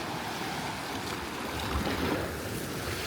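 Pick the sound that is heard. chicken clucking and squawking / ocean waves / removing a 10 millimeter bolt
ocean waves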